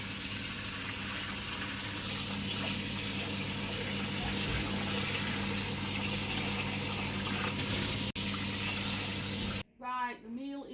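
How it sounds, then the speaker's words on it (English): Hot tap water runs steadily into a pot of rice being rinsed to wash off starch, a continuous close gush that stops abruptly near the end, followed by a brief voice. "I give it a rinse to rinse all that starch off."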